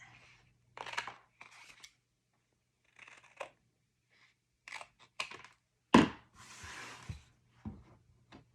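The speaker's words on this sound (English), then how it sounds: "So let's cut our pocket." Scissors cut a paper pocket for a scrapbook page: scattered soft snips and crisp paper rustles at close range, with one sharper crunch and a brief swishing stretch, separated by quiet gaps.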